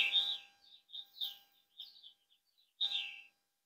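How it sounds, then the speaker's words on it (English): Pet bird chirping and calling indoors, several bright, close chirps and short calls in bursts with brief pauses between, a louder call near the end. "got a mouthy bird again"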